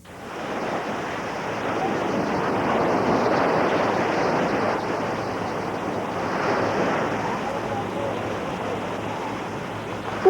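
Ocean waves and surf at Puerto Escondido on Mexico's Pacific coast, a steady broad rushing wash that swells and eases, with wind noise and no talk.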